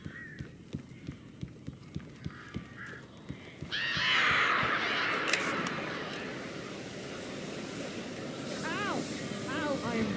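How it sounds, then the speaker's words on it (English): In Alan Wake Remastered, running footsteps give way to a loud rushing whoosh, and a few close, harsh crow caws break through near the end. "These birds are weird."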